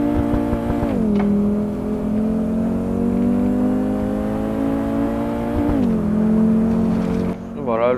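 A car engine revs in the Assetto Corsa racing game, a loud steady tonal drone that dips and climbs around gear changes, with a person talking over it.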